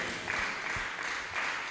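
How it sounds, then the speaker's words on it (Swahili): A church congregation claps together in a short, moderately quiet burst of applause, the patter swelling slightly near the end. "Mshangilie Yesu kwa makofi mazuri kabisa."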